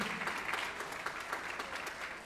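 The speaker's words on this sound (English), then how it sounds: "So a big round of applause for her." A school class day awards ceremony audience applauds in a steady, crowded burst of clapping that stays even and moderately loud for a couple of seconds.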